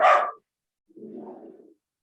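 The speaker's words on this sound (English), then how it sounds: "he barks when people come to the door" A dog barks twice indoors, a sharp close bark followed after a pause by a lower, softer, drawn-out woof, with no talk over it.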